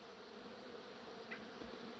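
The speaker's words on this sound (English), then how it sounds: "Yeah, I'm kicking it with the bees." Bees buzzing around someone sitting among them, a faint continuous hum with a brief nearer buzz passing by, quiet and steady.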